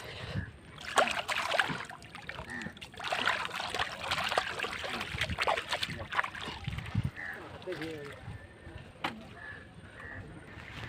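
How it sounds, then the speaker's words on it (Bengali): Ganga river water trickles and splashes as it is filled into a barrel at a riverside ghat on an afternoon, with steady flowing water and faint background voices throughout. "দেখো এখন এখান থেকে গঙ্গা জল ভরাচ্ছে"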